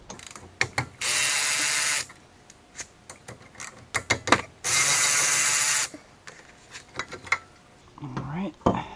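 Ratchet wrench clicking rapidly as brake caliper bolts are loosened on a car, two sustained ratcheting runs separated by metallic clanks and handling noises, close and loud.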